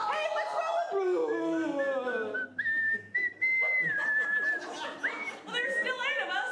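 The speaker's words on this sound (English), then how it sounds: "No one will doubt my whistling ability again" A person whistles a wavering, sliding melody, loud and close, with brief pauses and a few faint background voices.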